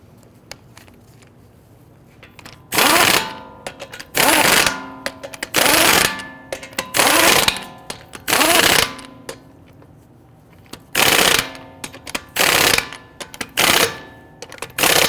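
Impact wrench snugging lug nuts onto a 2011-2023 Dodge Charger wheel: a series of loud, close, rattling bursts about a second long, coming in quick groups with short pauses between.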